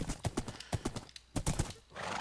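Horse hooves clip-clop in the video game Minecraft, a quick run of distinct, evenly spaced steps, close and fairly loud, with a brief pause midway and no talking.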